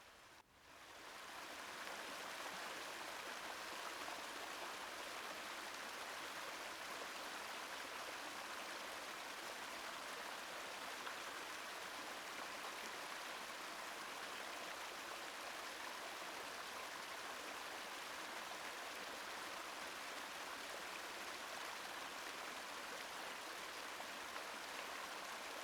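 A forest river waterfall pours in a steady, dense broadband rush that holds evenly for the whole stretch, with no voices over it.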